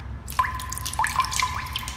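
Pencils tap lightly and sparsely to imitate the first raindrops in a children's rhythm exercise, a few soft clicks spaced apart over a quiet background.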